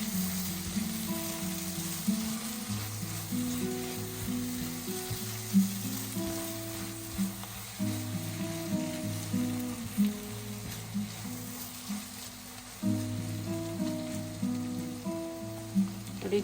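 Egg bhurji fries in a pan with a steady, close crackling sizzle that runs throughout, marked by occasional stirring scrapes and no voices.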